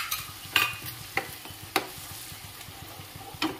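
Curd is stirred into a sizzling onion-tomato fry for an okra masala gravy, producing a low frying hiss under several crisp, close spatula scrapes against the pan, spaced about half a second apart.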